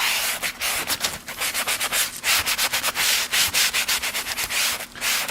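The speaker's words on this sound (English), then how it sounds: "I do that when I sand my lacquer and everything." Steady hand sanding of a lacquered surface with a rhythmic back-and-forth scratching, close and fairly loud, repeating strokes throughout without any talking.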